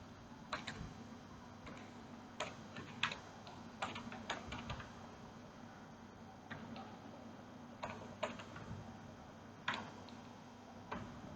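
Faint, sparse key taps on a computer keyboard while names are entered into an Excel spreadsheet, coming in small clusters separated by pauses over a quiet room hum.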